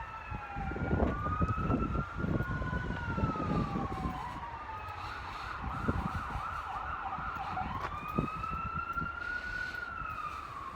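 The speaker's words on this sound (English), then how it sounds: "A signal we call a siren." A wailing siren rises and falls repeatedly, switching between slow wails and quicker yelps, moderately distant over low traffic rumble.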